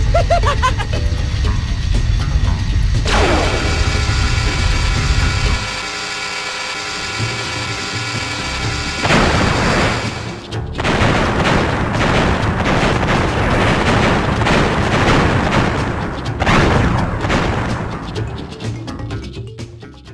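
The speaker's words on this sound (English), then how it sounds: "seeing things explode that are made by villains is always just good" Explosions in the Crash Bandicoot 2 finale, with a steady mechanical whirring and grinding that cuts out, then a series of loud, rumbling blasts and crashing debris that rolls on for about ten seconds without speech.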